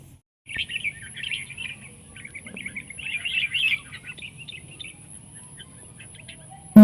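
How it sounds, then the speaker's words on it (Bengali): Birds chirp and twitter outdoors in quick bursts over a quiet background, fading toward the end before a sudden loud knock. "নির্জন পরিবেশ সাথে কি সুন্দর পাখির ডাক"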